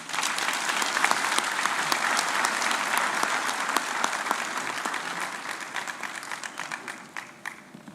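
A university graduation audience breaks into a round of applause, thick and loud at first, then gradually thinning toward scattered claps near the end.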